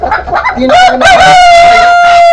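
A tiger hen of nearly 3 kilograms clucks up close and loud, a few short calls rising into a long, drawn-out squawk.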